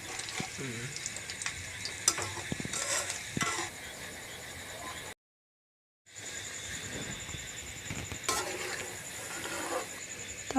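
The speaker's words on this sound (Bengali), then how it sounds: "তেলটা হয়ে গেছে, এবারে আমি তালের বড়াগুলো দেব।" Palm fritters (taler bora) fry in hot white oil in a kadai, with a soft steady sizzle and occasional stirring and utensil clinks, interrupted by a brief silent gap partway through.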